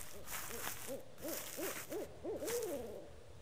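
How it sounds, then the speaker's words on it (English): Owl hooting inside the video game Tempus Triad, a series of repeated soft hoots in an uneven rhythm over a steady ambient game backdrop, fairly clear with no talk. "Was that an owl?"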